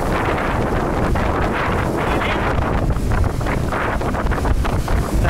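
Steady, loud wind roars across the microphone throughout, with rushing water and hull noise beneath, under way on a heeling Bavaria 38 sailing yacht.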